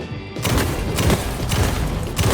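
Gunfire in Alan Wake 2, a rapid run of loud, booming shots packed close together with heavy low thumps, sustained for a couple of seconds without pause.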